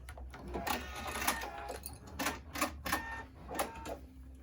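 A sewing machine stitches through the ribbon on a rectangular fabric face mask, sounding as a close, steady mechanical hum broken by several quick bursts of rapid needle clatter.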